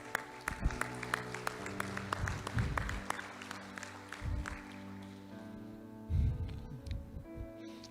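Church congregation applauding in several bursts of clapping over a steady hum, fairly faint and distant, with no one speaking.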